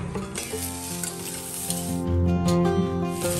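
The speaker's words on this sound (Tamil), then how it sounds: "இப்போ கடாயில் நல்லெண்ணெய் விட்டுக்கலாம்" Sesame oil heats in a kadai with a steady, loud sizzle and crackle that runs throughout, close and unbroken, with a faint metallic stir.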